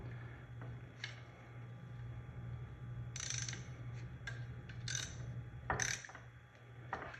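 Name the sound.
bolt being tightened down with a ratchet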